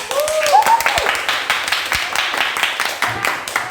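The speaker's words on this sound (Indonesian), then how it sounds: "Kita kasih tepuk tangan dulu" Scattered applause from a classroom audience of teachers and students during a biology teaching practice session, with light, uneven clapping under voices and a brief whistle-like tone near the start.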